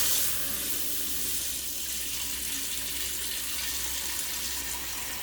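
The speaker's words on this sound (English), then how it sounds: "And Pat just installed this pot filler, and I hope it don't pop off on me" Water runs steadily from a newly installed kitchen pot filler faucet into a pot, a continuous close hiss and splash with no talking.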